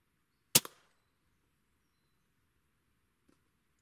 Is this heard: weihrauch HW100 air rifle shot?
yes